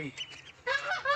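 Ducklings honk in a quick series of loud, nasal calls, fairly close, in a village.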